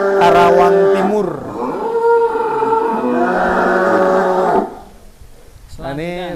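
Big sacrificial cattle at a large livestock farm bellow loudly and near, long drawn-out moos rising and falling, with a second call starting after a brief lull and farm noise underneath.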